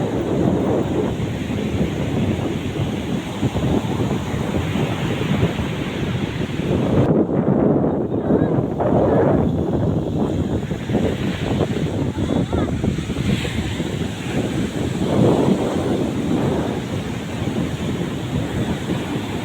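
Sea waves roll in at Veraval Somnath beach: a steady, loud roar of surf that swells and eases over time. Blustery wind buffets the microphone throughout, and no voices are heard.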